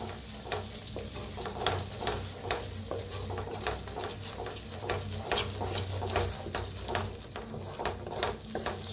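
Egg masala, garam masala and red chilli powder stirred and roasted in a pan, giving a steady sizzle with repeated scraping strokes of a spoon at an even rhythm, close and moderately loud.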